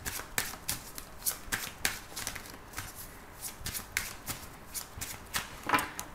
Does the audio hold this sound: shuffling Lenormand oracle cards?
yes